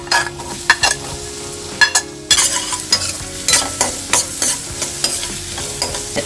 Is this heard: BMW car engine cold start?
no